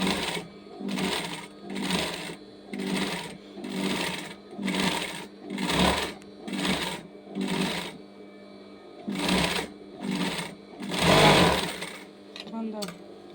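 A sewing machine stitches the back neckline of a girl's dress in steady, rhythmic runs with brief pauses, close up, while someone talks over it.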